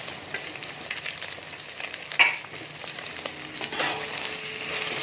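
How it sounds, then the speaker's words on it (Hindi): Chopped onion frying with set egg in a pan gives a soft, steady sizzle, with a few light utensil scrapes and clinks as it is stirred. No one talks. "ये देखिए अंडा टाइट हो गया। अब इसमें प्याज ऐड कर लेंगे, कटा हुआ प्याज"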